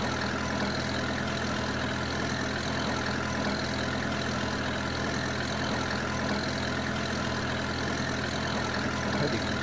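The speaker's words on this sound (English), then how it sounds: "I did rake with a little tractor like this" Small tractor engine idling steadily in Farming Simulator 22, a continuous low rumble with a constant mid-range drone, close and even throughout with no talking.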